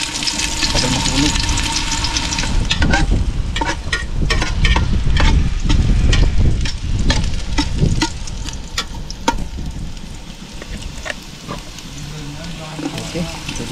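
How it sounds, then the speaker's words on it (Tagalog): Ginger sautéing in a frying pan, a continuous close sizzle and spatter with scraping stirring strokes, while a person talks over the cooking. "pag nagisa ako, inuuna ko talaga yung luya"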